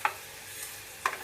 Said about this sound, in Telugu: ఆయిల్ వేడెక్కింది. దీంట్లోకి కొన్ని మెంతులు,